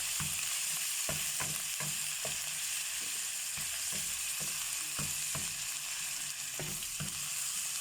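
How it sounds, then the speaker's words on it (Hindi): Chicken pieces and garlic paste frying in hot oil for a home-style chicken karahi, a dense steady sizzle broken by regular scraping knocks as a spoon stirs the pan, with no voices. "ऑयल लिया, ऑयल में चिकन और लहसुन का पेस्ट फ्राई किया"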